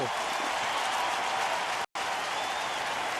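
A baseball stadium crowd applauds an outfielder's catch against the scoreboard, a broad, fairly distant wash of clapping and crowd noise held steady, with a brief cut to silence partway through.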